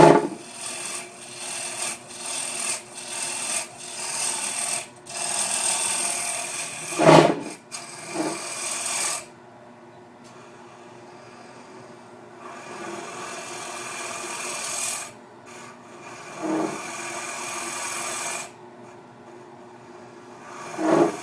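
A Sorby swivel-tip scraper with a small half-round bar cutting inside a wooden goblet on a lathe, rasping and scraping in repeated passes with a steady hum, broken by short pauses and one quieter stretch.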